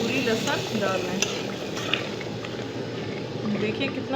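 Oil sizzles steadily as garlic fries in a pan for a spinach dish, with occasional scrapes and clinks of stirring, while a voice talks over it.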